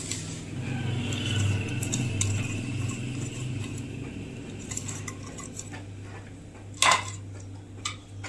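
Chopped cabbage, onion and green chilli being mixed in a bowl for a bread omelette, with steady clinks and scrapes of a spoon against the bowl over a low background hum, and one sharper knock near the end.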